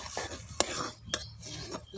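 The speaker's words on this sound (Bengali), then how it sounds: "জলটা খুব সুন্দর গরম হয়ে গেছে, এবার আমি দিয়ে দিচ্ছি গরম জলের ভিতরে মুড়িটা" Puffed rice (muri) tipped into a pan of hot water on the stove, giving soft rustling and stirring scrapes punctuated by three sharp metallic clinks against the pan, close and fairly quiet, with no talking.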